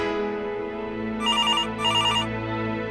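A telephone rings unanswered at home, two electronic ring bursts sounding over a steady background of music.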